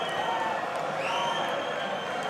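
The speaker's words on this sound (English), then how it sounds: "The crowd want him to, as you can hear." Darts crowd at a PDC European Darts Grand Prix match roaring steadily, a dense continuous wall of cheering and chanting throughout, with no talk over it.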